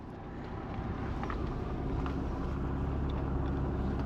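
Cars pass along a rural road in Britain, a steady broadband rush of tyres and engines with wind noise, fairly close and constant, building slightly over a few seconds.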